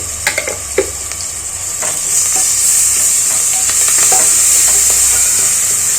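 Ginger-garlic paste and turmeric frying in hot oil, a close, loud, continuous sizzle that swells after a few opening stirring knocks and holds steady to the end, with no talking.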